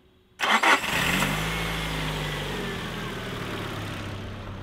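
A car engine being tested after repair cranks briefly, catches with a loud burst, then settles into a steady low idle that runs on alone.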